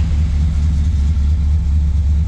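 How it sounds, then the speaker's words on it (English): The 455 H.O. V8 in a 1965 Pontiac Tempest GTO clone runs with a deep, steady, loud rumble heard up close, with no voices over it. "Your vehicle starts right up."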